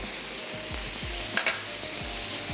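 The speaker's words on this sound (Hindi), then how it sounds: "मैं इसमें अब ऐड कर देती हूँ प्याज, ताकि प्याज भी हमारी सॉफ्ट होनी शुरू हो जाए" Onions added to hot oil in a pan sizzle steadily and close, with faint low thumps and a brief brighter crackle partway through.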